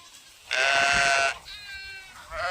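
A sheep bleats once in a loud, sustained call, followed by fainter bleating from other sheep close by.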